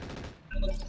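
Rapid machine gun fire from a mech in the video game RogueTech, a short burst of dense, overlapping shots in a brief loud blast.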